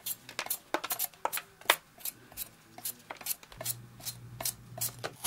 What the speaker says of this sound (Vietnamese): Rồi mình bào sạch vỏ khoai.